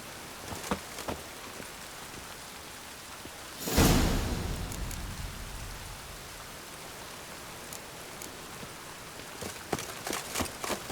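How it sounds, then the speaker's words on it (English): Steady rain patters in the background in the video game The Witcher 3: Wild Hunt, with a brief louder rushing burst partway through and scattered soft taps and thuds. "And it's raining again."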